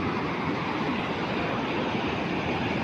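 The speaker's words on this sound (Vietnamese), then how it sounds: "Đây là biển Lagi." Sea waves at Lagi beach make a steady, loud, broadband roar of surf that continues without a break for the whole stretch, with no voices.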